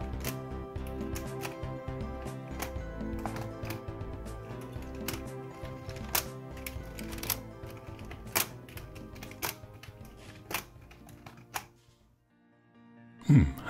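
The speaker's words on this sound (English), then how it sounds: "it's incredible what a good typewriter keyboard this makes" Typing on a LEGO keyboard sprung with 1990s LEGO shock absorbers gives crisp, uneven plastic clacks in quick bursts, close and fairly quiet, ending with a louder clatter as the keys are released.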